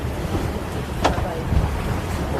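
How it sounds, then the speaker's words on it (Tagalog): High ocean waves at a fishing village in Hong Kong, heard as a continuous wash of surf with a brief splash near the middle, mixed with wind buffeting the microphone and a boat's low rumble. "Grabe yung alon. Taas"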